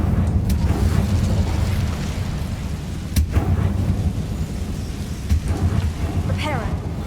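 The Incendio fire spell is cast in the Hogwarts Legacy video game: a rumbling fiery burst with sharp crackling impacts over continuous game ambience.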